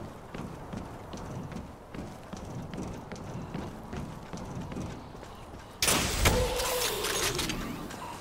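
Horse hooves clip-clopping in the video game Meet Your Maker, a rhythmic run of soft thuds, followed by a sudden louder burst of noise near the end.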